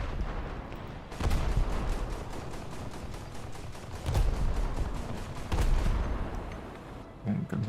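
Naval 25 mm guns firing on and on in a warship video game, rapid regular shots forming a steady rattling stream, louder bursts recurring every few seconds.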